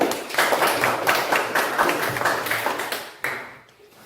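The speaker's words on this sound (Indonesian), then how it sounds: "Baik, tepuk tangan untuk" Students in a classroom clap together for a classmate's comment, a brisk burst of many hands that trails off over about three seconds before a short final bump and quiet.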